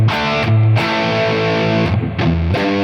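A distorted electric guitar plays a steady classic rock riff of sustained chords, with a short break and then renewed strums near the end. The tone is loud, thick and saturated.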